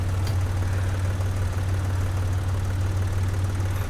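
A tractor engine in the farming game Professional Farmer 2014 chugs with a steady low, knocking idle-like drone, loud and continuous for the whole span without any talking.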